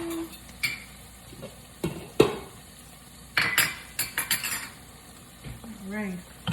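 A spoon clinks and rattles against dishes in a kitchen, with several sharp metallic knocks and scrapes spread across the moment over a low background hum.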